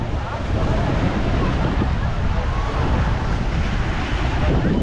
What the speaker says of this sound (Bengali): ততক্ষণ কিন্তু হাওয়াটা দারুণ দিচ্ছে